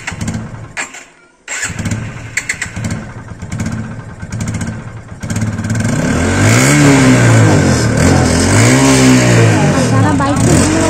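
A motorcycle that had sat unused for three months and was hard to start catches and fires up, then revs loudly in repeated rising-and-falling swells, close by. Brief speech is heard early on.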